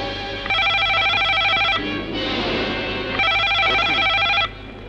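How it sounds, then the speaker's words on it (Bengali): A telephone rings in two long electronic bursts with a short gap between them, loud and close over a steady low hum, with no talking. "তোর বাপের ফোন এসে গেছে"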